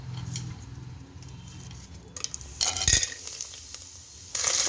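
Pulao spices drop into hot oil in a pressure cooker, with a brief clatter and then a sudden loud sizzle, close by, and the frying hiss rises again near the end.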